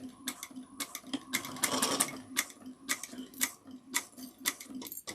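A sewing machine back-stitches through bag fabric at a 3/8-inch seam, a quiet rapid ticking that runs in short bursts with brief pauses, close up and alone.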